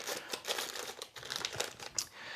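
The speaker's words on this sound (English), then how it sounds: "so I just put it in a plastic bag." A camera lens going into a plastic bag while valuables are stowed in a car safe gives close, crinkly plastic rustling in uneven bursts and sharp crackles, with no talk.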